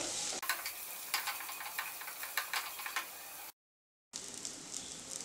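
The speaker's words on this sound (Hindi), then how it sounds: "जैसे ही ओनियन थोड़े सॉफ्ट हो जाएं, उसमें मैं ब्रोकली डाल दूंगी और इसको 2 मिनट के लिए सॉटे कर लूंगी।" Onions and broccoli sauté in a pan over a medium gas flame, giving a steady close sizzle with scattered stirring clicks and taps, then a brief silent cut before the frying resumes.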